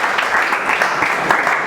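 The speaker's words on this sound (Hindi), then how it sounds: "ताली बजा दे लोग।" A class of students in an accounts lesson gives a round of applause, a continuous, even crackle of many hands clapping close by for under two seconds.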